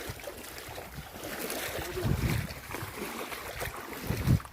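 Water flowing through a village channel, a steady broadband rush with wind buffeting the microphone and occasional louder low surges, close and continuous with no talk.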